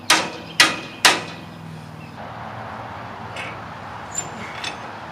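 A spud wrench swung as a hammer strikes rusted Ferris wheel parts three times in a quick, evenly spaced series of sharp metallic knocks, followed by faint clinks and background noise.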